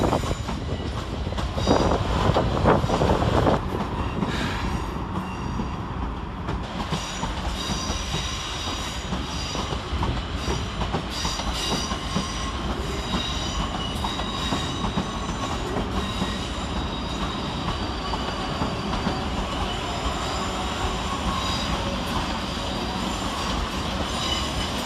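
Class 455 electric trains moving through London Waterloo station, a loud continuous rumble of wheels on track with squealing and rhythmic clatter as the carriages roll past.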